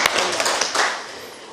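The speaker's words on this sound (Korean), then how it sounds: "큰 박수 부탁드립니다" Short burst of audience applause at a seminar, a scattered patter of clapping hands that fades quickly.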